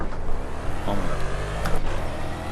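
A Corvette C7.R race car engine in Project CARS at Silverstone, a loud, low-revving American V8 roar that holds steady throughout, with a brief exclamation from a man over it.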